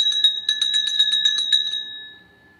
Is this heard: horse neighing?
no